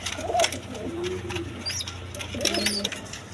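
A pair of German Modena pigeons coo softly nearby in a few rolling, throaty calls over a low background hum, with a brief flutter of wings.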